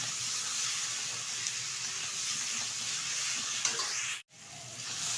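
Vegetables fry in a pan with Kashmiri chili powder and sambar masala, giving a steady close sizzle and light stirring scrapes, with a brief dropout near the end before the hiss resumes.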